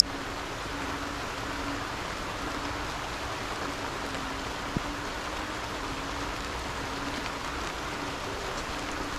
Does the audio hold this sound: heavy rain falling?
yes